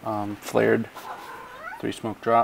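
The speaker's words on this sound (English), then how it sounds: "Sorry about the cat." A house cat meows a few times in short, loud bursts close to the microphone, overlapping a voice as he narrates gameplay.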